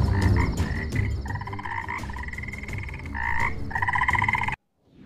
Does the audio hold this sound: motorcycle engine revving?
no